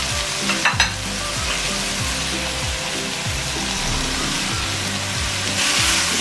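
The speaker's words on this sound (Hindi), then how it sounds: "अब हम इसके अंदर वेजिटेबल्स ऐड करेंगे।" Vegetables stir-fry with chicken in a hot pan for Chinese biryani, a continuous loud sizzle under rhythmic, repeated scraping and tossing strokes of a spatula, with a couple of sharp clanks near the start.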